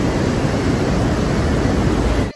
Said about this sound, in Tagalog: Tingnan yung alon o.